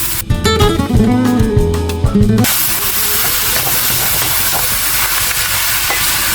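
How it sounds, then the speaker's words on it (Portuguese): A loud, steady sizzle of meat searing in a hot pan takes over after a couple of seconds of music and continues to the end. "panela já quente, coloco a minha carne"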